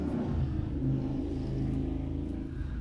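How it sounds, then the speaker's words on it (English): A motorcycle passes on a busy nearby road, heard as a continuous low engine rumble and drone that stays steady and fairly faint through the whole stretch. "There was a motorcycle here."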